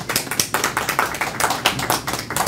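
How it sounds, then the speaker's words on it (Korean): Welcoming applause at the opening of a logistics company's Atlanta branch office, a loose crowd of distinct hand claps with an uneven, rippling rhythm, close and moderately loud, with no talk over it. "자, 환영의 박수 부탁드리겠습니다."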